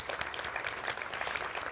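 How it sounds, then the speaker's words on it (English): Steady applause from an audience at a student speaking event, dense and continuous across the whole stretch, fairly close and even in loudness. "Let's give them a round of applause."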